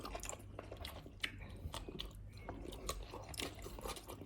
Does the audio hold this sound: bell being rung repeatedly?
no